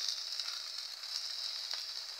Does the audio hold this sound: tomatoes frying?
yes